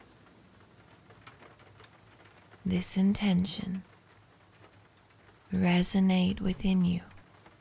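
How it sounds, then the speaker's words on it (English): Steady rain patters on a window pane throughout, a soft continuous hiss that sits beneath someone speaking gently in two short phrases. "as the rain falls gracefully on the window tonight."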